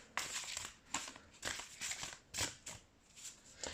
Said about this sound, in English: shuffle some cards here